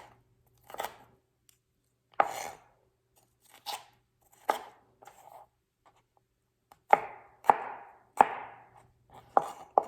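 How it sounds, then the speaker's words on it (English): A knife thinly slicing vegetables on a cutting board, crisp cutting strokes in irregular bursts with several quick cuts near the end, close and clear with no talk. "I just do a thin slice."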